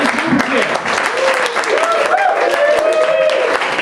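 Comedy club audience clapping and cheering, a dense, loud wash of applause mixed with shouts and voices throughout a short burst.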